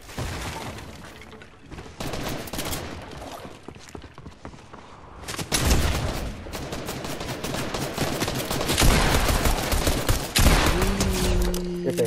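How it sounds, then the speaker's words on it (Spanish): Fortnite trios match gunfire, repeated rapid shots and bursts at varying distance, building to loud close volleys, with faint footsteps and debris breaking between them. "Pesados, tú, disparando ahí"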